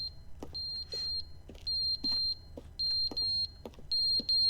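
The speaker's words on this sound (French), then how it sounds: "Il y a une alarme ici." Repeated electronic alarm beeps from The Stanley Parable game, a steady high tone sounding in regular bursts of roughly half a second each, with a low background hum and a few faint clicks between them.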